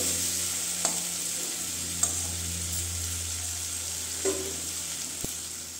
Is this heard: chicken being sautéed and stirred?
yes